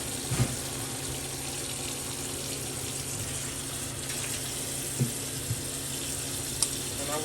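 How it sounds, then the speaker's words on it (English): Cool tap water runs steadily over raw chicken in a kitchen sink, a constant close rushing hiss with a few faint knocks and splashes. "Get your cool water running on top of those."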